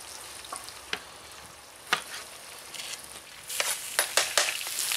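Parboiled potato slices are folded in a frying pan under a soft sizzle, with sharp spatula scrapes and clacks recurring and growing busier toward the end.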